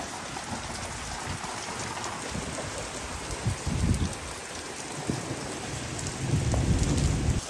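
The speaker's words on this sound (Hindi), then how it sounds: "बहुत जबरदस्त बारिश हो रही है" Heavy rain pours steadily in a dense, continuous hiss, with low rumbles now and then like distant thunder; no voices.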